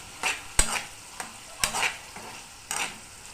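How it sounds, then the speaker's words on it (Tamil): Ginger garlic paste is stirred and sautéed in a hot pan. A few close scraping stir strokes sound over a soft, steady sizzle, with no talking. "இப்போ நம்ம இஞ்சி பூண்டு பேஸ்ட்டை ஆட் பண்ணி நல்லா வதக்கி விட்டுடலாம்."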